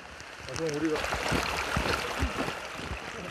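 Muddy valley stream water rushing down at a mountain survival training ground, a continuous churning wash with a voice talking over it.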